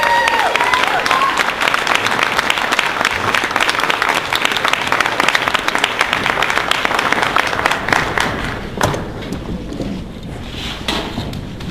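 An audience at a GSPLPAC TEA event claps warmly in a sustained round of applause, dense and fairly loud, thinning out toward the end as a few last claps and faint voices linger.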